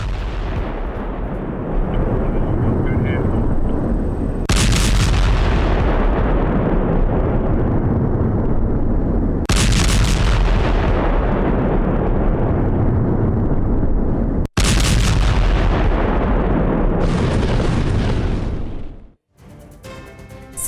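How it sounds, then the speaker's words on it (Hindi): Heavy gunfire and explosive booms from a street battle between rebels and government forces in a Syrian city, loud and continuous, with several sharp bursts sounding close and harsh over a dense rumble of shooting and no talk. "और गोलीबारी की आवाज आप सुनिए।"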